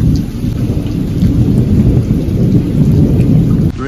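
Heavy rain pours in a dense, steady roar with a deep rumble of thunder running beneath it, close and loud throughout.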